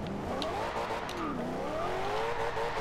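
A Corvette ZR1 engine in Forza Horizon 2 drones at low RPM, its pitch rising and sagging steadily for about three seconds, loud and close, with no talking.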